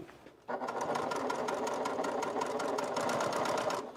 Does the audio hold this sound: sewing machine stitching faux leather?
yes